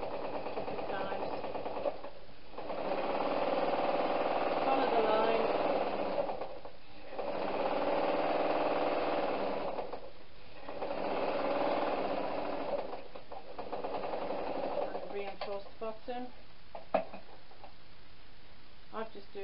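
A sewing machine stitching back and forth to reinforce the bottom of a knitting needle case, running in steady loud bursts with brief pauses between passes, a voice talking over it.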